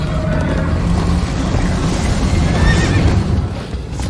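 A horse in the Minecraft Story Mode video game neighs loudly over a steady rumbling gallop, with a dense, continuous wash of game sound and no talk.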